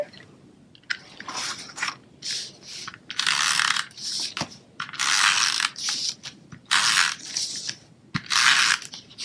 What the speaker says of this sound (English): And then I'm going to come in with our emboss piece and my SNAIL adhesive.